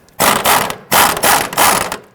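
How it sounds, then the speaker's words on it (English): An impact gun loosens a 15mm rear shock absorber bolt on a 1999-2004 Jeep Grand Cherokee, hammering loudly and close in three short bursts separated by brief pauses. "We're going to use our impact gun and our socket to go ahead,"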